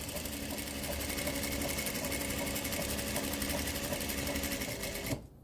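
A sewing machine runs steadily for about five seconds, stitching a second seam line on quilt fabric for a star block, then stops abruptly near the end.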